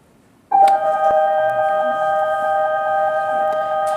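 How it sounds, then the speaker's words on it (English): Division bells ring in a legislature committee room at the BC Legislature, a loud steady electronic tone starting abruptly after half a second and sustained without pause to the end, with no talk over it. "the bells have rung"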